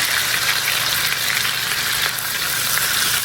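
Burger patty for a carrot-bun burger frying on a hot pan, a loud, continuous close-up sizzle crackling without pause.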